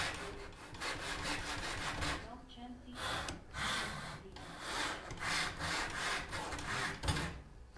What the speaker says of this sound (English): this is my miter saw, Chance.